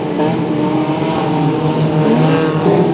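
Unlimited banger race cars roaring around an oval racewall track at Cowdenbeath, a loud continuous blend of several engines droning and revving together.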